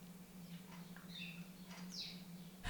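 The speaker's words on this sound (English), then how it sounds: "Can you hear all the birds outside?" Birds sing outside on a sunny spring day: a few faint, distant chirps and short whistles come and go over a steady low hum, with no one talking.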